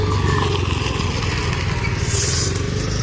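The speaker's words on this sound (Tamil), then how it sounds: "குறுக்க ஏதோ வண்டி வருது." A motor vehicle, probably a motorbike, cuts across the course during an outdoor running race, its engine a loud, steady close drone with low rumbling harmonics through the whole stretch and no clear speech over it.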